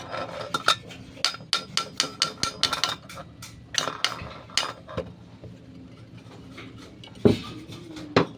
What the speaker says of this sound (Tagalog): Gamitan natin ng martilyo.